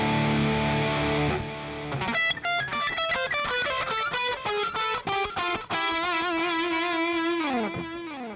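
Sustained distorted electric guitar lead lines through an amp simulator plugin with effects, a held chord fading into fast melodic runs and bends, played continuously without voices.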